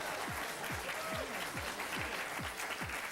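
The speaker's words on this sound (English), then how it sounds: "You can all clap because she's really smart." An audience claps at a quiz bowl match, a steady patter of hands with a series of low, regularly spaced thuds sounding under it.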